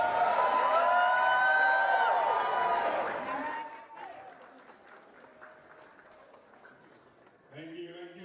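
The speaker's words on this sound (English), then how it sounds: "big round of applause for the Wow, what an absolutely incredible first offering from our artists in Bangkok" Applause from the audience at an Art Battle live painting event in Bangkok, a dense loud burst of clapping and crowd noise for about three seconds that drops off into quieter room sound before a voice starts at the end.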